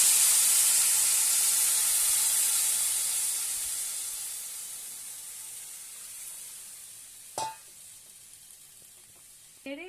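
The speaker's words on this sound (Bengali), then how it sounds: "এটা হালকা ভাজা হয়ে গেলে আমি এর মধ্যে ভাতের ফ্যানটা দেব।" Rice starch water hitting a hot frying pan, a strong steady hiss of sizzling steam that slowly fades, with a couple of brief clatters late on.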